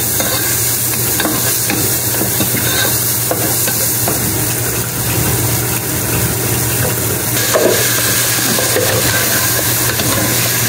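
Food with tomatoes stirred in a sizzling pan, a steady loud frying hiss with scraping and stirring noises up close throughout.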